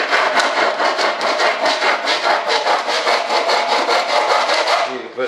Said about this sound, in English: You can put some 36 grit and cut the slot.